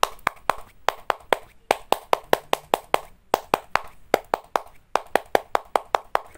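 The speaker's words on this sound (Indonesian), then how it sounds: "Mari bersama-sama kita tepuk pramuka ya." Scout clapping, tepuk pramuka, done as a rhythmic pattern of crisp, close hand claps in quick groups separated by short pauses, repeated steadily with no voices heard.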